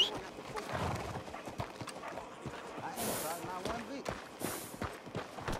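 Hooves clip-clop steadily under a voice talking, with two brief hissing bursts, in the horse-riding video game Red Dead Redemption 2.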